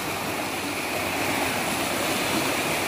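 Floodwater flows through the streets of Kampung Bugis in Tarakan, a steady broadband rushing wash, loud and continuous without breaks, with no voices over it.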